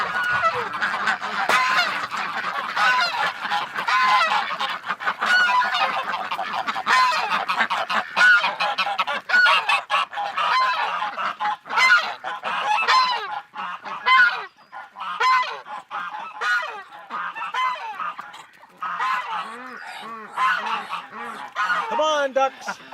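A flock of domestic ducks, including Muscovy, quacks and honks continuously and loudly at close range in the morning as they are let out, with overlapping calls throughout.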